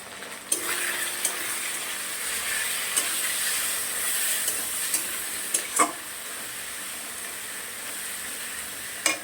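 Curry seasoned with turmeric and chilli powder sizzles and fries steadily in a pan, with a constant hissing sizzle and occasional sharp clinks of a spatula against the pan; no voices.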